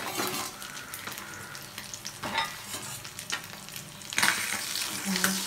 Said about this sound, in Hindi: प्रोसेस में हम दोनों साइड से सभी फिश को फ्राई कर लेंगे।